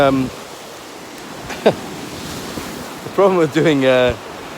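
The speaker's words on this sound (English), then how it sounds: "these waves just dump at the very last second and everything gets splashed, including me" Ocean waves dumping and splashing onto a sunny shore, a steady wash of surf noise in the background while a person talks and laughs over it.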